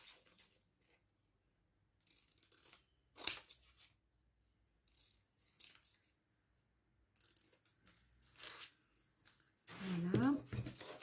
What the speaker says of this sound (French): Je vais découper la petite image.